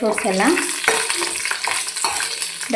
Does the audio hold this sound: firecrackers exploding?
no